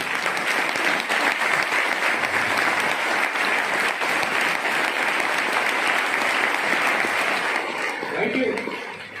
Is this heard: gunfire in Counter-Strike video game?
no